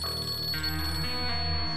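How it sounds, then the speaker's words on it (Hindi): A phone ringtone plays during a tense domestic drama scene, a sustained electronic melody with shifting tones sounding clearly and steadily, with no talk over it. "किसका फोन आ रहा है?"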